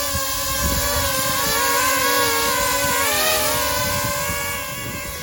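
Tello drone flying outdoors in wind on replacement propellers, giving a steady close whine with wavering harmonic tones that shift as it drifts, continuous over a low rumble.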